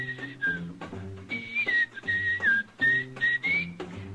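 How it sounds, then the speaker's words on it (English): A bright, clear whistled melody glides along with a band backing it, holding long notes and sliding between phrases for several seconds. "How about whistling along with him?"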